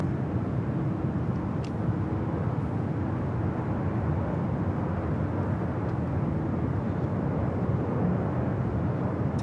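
A landing airliner on runway 24 right at LAX makes a steady, broad, distant roar that holds level for the whole stretch with no voices over it.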